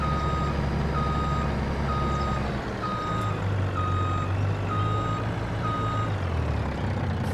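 A truck in a Missouri river-bottom farming game backs up with a steady series of evenly spaced reversing beeps over a constant engine rumble, close and loud, with no talk.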